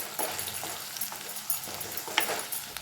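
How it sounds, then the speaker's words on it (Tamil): Turmeric, chilli and coriander powders are stirred into a hot pan of masala for crab curry over a low flame. A soft, even sizzle runs underneath, broken by repeated scraping stirs and a sharp clink of the spoon. "மஞ்சள் தூள், மிளகாய் தூள், மல்லித்தூள் எல்லாம் சேர்த்து கலந்துக்கலாம்"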